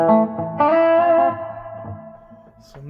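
An electric guitar plays through a Roland Cube 80X amp on its deluxe combo model, meant to resemble a Deluxe Reverb, giving a warm, mid-heavy tone. Two sustained chords ring out and decay with reverb, loud and alone.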